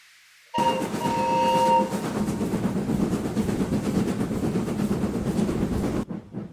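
A steam locomotive gives a loud whistle, then chugs steadily along with a heavy rhythmic puffing and rumbling.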